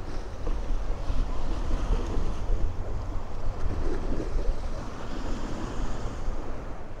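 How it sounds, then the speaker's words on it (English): Sea waves surge and wash continuously against the Blackpool seafront at high tide, a steady broadband roar of surf with wind buffeting the microphone, loud and unbroken throughout with no talking. "Just listen to the sound of the waves."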